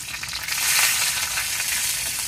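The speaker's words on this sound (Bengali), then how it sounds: "এই যে তেল দিয়ে প্রথমে, তারপর তেজপাতা দিয়ে দিচ্ছেন, আর এখন দিয়ে দিবেন পাঁচফোড়ন" Panch phoron spices hitting hot oil in a pan after bay leaves, giving a loud, steady sizzle that swells briefly and holds through the whole moment, with no voices.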